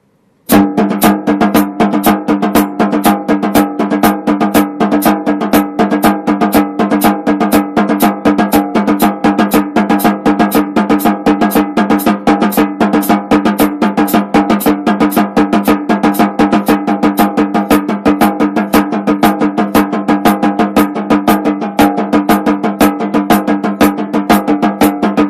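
Electric guitar string bends move steadily from a straight rhythm into triplets over a constant, evenly ticking hi-hat, loud and continuous with no voices.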